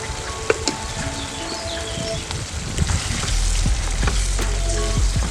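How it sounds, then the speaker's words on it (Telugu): Prawns frying in a pan after two tablespoons of garam masala powder go in, a dense crackling sizzle with scattered pops and stirring scrapes that swells louder toward the end, no talk. "గరం మసాలా పౌడర్ యాడ్ చేసుకున్నాక ఒక 5 మినిట్స్ పాటు వేగనిస్తే సరిపోతుంది."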